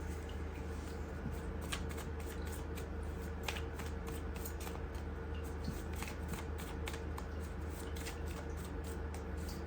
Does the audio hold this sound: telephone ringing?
no